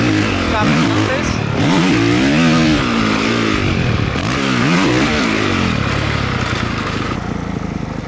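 A motocross dirt bike in third gear roars at close range as it scrubs a small jump, its engine revving up and down in wavering surges with loud, continuous throttle blips and no pauses.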